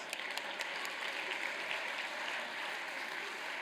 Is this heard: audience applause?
yes